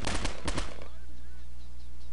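Rapid burst of gunfire from Postal 2 video game, a cluster of loud cracks in the first second followed by a steady low hum and faint background tones.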